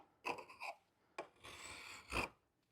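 A hand file rasps along a knife's edge bevel in short close strokes, first a pair of quick passes, then one longer stroke ending in a loud scrape, with pauses between.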